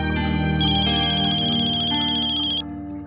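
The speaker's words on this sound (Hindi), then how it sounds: "माँ का फोन है।" A phone ringtone plays steadily and loudly, a bright repeating electronic melody that carries on for a few seconds before cutting off.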